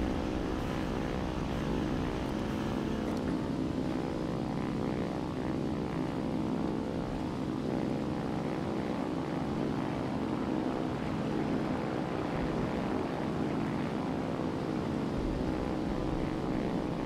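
In the War Thunder video game, an enemy propeller aircraft flies low over an airfield, its droning engine a constant moderate hum with a faint rise and fall and no talking.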